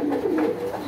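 At a pigeon farm a single close pigeon gives a short, soft, low coo, heard alone.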